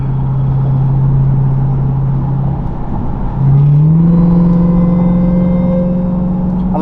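A 2023 Dodge Durango Hellcat with a muffler delete idles with a loud, steady low rumble, then revs up midway and holds at a higher, louder drone close by.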